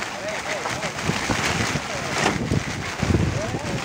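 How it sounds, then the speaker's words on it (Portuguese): Strong wind gusts buffet the microphone beside a river bank during a storm on the Tarumã Mirim, a loud continuous roar with surging blasts. "o vento tá forte aqui, cara"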